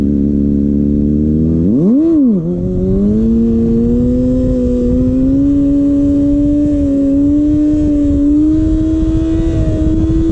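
A Kawasaki ZX6R 600 sport motorcycle, held at high idle for wheelies, blips its engine once in a quick rising-and-falling rev, then settles into a loud, steady, close droning idle.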